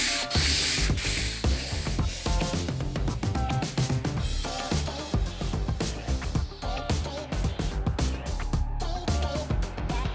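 A hand sander works over a particle board dresser indoors, a busy gritty rasp with uneven pulses and knocks as it moves across the surface, close and continuous throughout.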